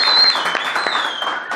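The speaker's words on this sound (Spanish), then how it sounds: "Un fuerte aplauso." Studio audience applause for a guest on a comedy program, a brief, close burst of mixed clapping with a faint whistle-like tone above it.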